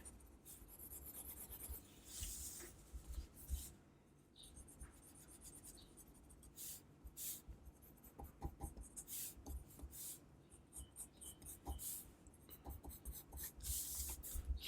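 Pencil shading on paper for comic rendering, steady scratchy rubbing strokes in irregular bursts, close and fairly quiet, with no voices.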